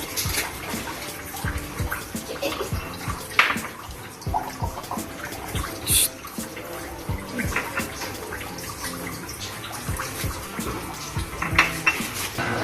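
Onion, ginger and garlic dropping into a hot pan, giving a steady, loud sizzle with occasional clinks and scrapes of a utensil against the pan.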